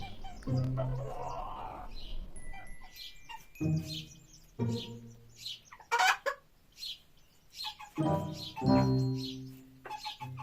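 Small ornamental Sebright hens and their chicks cluck and cheep nearby in bursts, low clucks mixed with high thin chirps over several seconds.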